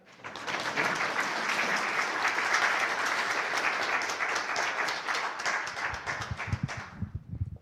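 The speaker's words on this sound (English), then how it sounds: "First, round of applause for our speaker." Conference audience applauding a speaker: dense, sustained clapping from a full room for about seven seconds, then tapering off into a few isolated claps and handling noise.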